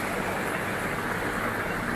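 A shower with a waterfall-style feed runs continuously, producing a loud, steady rushing hiss of falling water with no pauses or talk.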